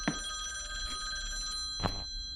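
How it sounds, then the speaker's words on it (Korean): A telephone rings inside a house hallway with two distinct bursts of ringing, the first at the start and a louder one near the end, over a steady electronic hum and low room noise. "누가 전화하는 거지?"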